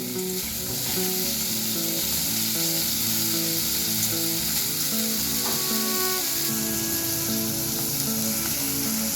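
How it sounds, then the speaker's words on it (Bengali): Small fish mixed by hand with vegetables sizzle loudly in a pan over high flame, a constant close frying hiss with soft scraping stirs and a few clinks, no voices. "মেখে রাখা মাছের সাথে সব সবজিটাই আমি দিয়ে দিচ্ছি এবার আলতো হাতে এটাকে নেড়ে নেব"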